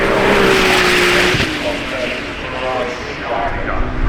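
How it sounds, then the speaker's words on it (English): Ferrari 296 driving up the hill at the Goodwood Festival of Speed, a loud sustained engine roar that slowly fades as the car moves away, with a commentator talking over it. "Ferrari with the 296 making its way up there."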